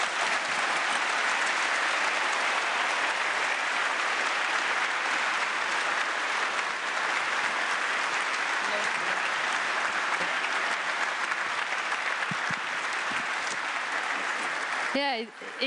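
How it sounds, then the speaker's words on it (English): Sustained, dense audience applause following a politician's speech on industrial reforms, loud and steady for about fifteen seconds before a voice briefly breaks in at the very end. "it deserves a round of applause indeed"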